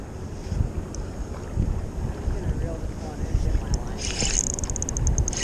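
Steady wind buffeting the microphone on a river shore during walleye fishing, a continuous low rumbling roar with a few faint, higher sounds, and people talk quietly underneath.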